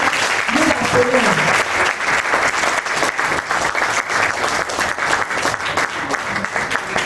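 Audience applause at a presentation event, sustained dense clapping from a sizable crowd, steady and fairly loud across the whole stretch, with some voices faintly mixed in.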